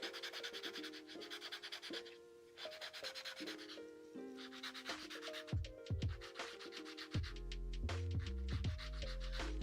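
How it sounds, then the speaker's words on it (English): A sanding block rubbed by hand over a craft piece, quick repeated scratchy strokes in short bursts, faint and close, with tonal musical backing throughout. "I'm just going to take my sanding block here."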